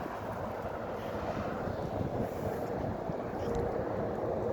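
Steady wind buffets the microphone outdoors in a cemetery with a continuous low rumble, no voices, constant and moderately loud throughout.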